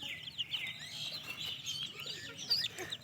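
Chickens cluck and chirp softly through mid-range chatter, with brief brighter calls, heard at moderate distance over a faint, steady background and no talk.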